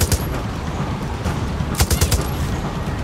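Gunfire in Far Cry 6, loud volleys of shots cracking in clustered bursts, with a heavier flurry near the end over constant combat noise.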